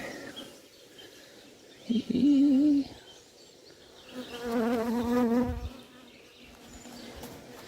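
Honey bees buzz around an open hive after a frame has been lifted and honey has spilled. The buzzing is close, with two louder, wavering swells as bees fly near over a quieter background hum.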